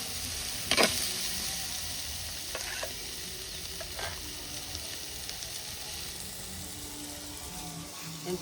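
Drumsticks and tomato are stirred in a pan over a wood-fired stove while cooking fish curry, with a steady fry sizzle and a few sharp spoon scrapes near the start, close and clear with no talking.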